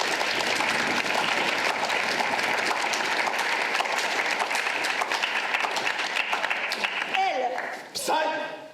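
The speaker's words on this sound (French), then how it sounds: "Applaudissez bien fort." A live audience at a student improv show applauds loudly and continuously as the teams are introduced. The clapping thins out near the end as a voice cuts in over it.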